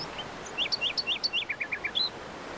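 Bird chirping in the video game Moonlight Peaks, a clear, close run of about a dozen quick rhythmic tweets in a row against a quiet background.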